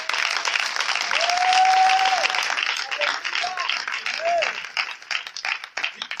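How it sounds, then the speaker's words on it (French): Congregation clapping and acclaiming the Lord Jesus during a Friday night church service, a steady dense wash of applause with a brief tonal whistle or voice rising over it, thinning slightly toward the end. "Est-ce qu'on peut acclamer le Seigneur Jésus?"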